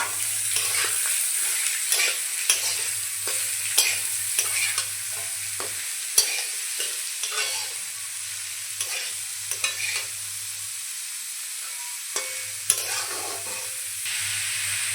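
Chopped ash gourd fries in a pan under a constant sizzle, with repeated spoon scrapes and stirring clatter at an irregular rhythm and a low humming tone running underneath.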